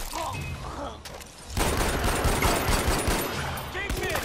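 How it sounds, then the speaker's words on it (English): Rapid automatic gunfire from Far Cry 4, aimed at a heavy gunner, bursts out loud and dense after a brief quieter stretch and keeps rattling to the end, with muffled game effects underneath. "Aw, oh, seriously, I shot that heavy gunner."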